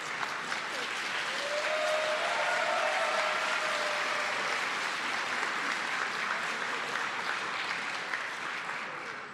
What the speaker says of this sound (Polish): Gorące brawa dla osób wyróżnionych.